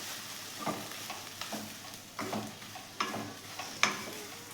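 Chicken keema bharta is stirred with chopped coriander in a pan, heard as a low quiet sizzle under a series of regular scraping strokes and light knocks of a spoon, about one each second.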